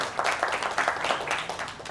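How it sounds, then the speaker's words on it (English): A seminar audience applauds at a talk in Bangkok, a dense, steady patter of many hands clapping together, moderately loud and sustained for a couple of seconds with no pauses. "give them a round of applause."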